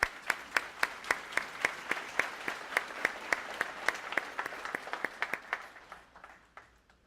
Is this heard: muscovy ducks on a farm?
no